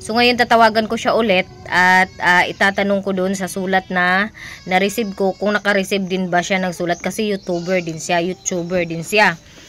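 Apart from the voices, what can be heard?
No everyday noises stand out.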